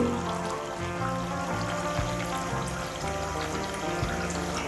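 Water streams steadily from a Waterdrop G2 reverse osmosis filter into a small container, a loud continuous pour with a low hum from the running unit underneath.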